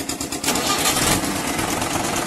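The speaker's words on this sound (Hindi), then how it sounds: "ट्रैक्टर की आवाज सुन सकते हैं आप कि कितनी अच्छी आवाज में है ट्रैक्टर" A 2018 Mahindra 575 tractor's engine runs at a steady, loud idle close by, a continuous rumbling chug with no talking over it.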